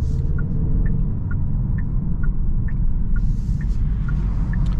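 2023 Genesis G70 2.0t driving in Sport mode, a steady low engine and road rumble from inside the cabin with faint regular clicking ticks over it, continuous and moderately loud, no talking.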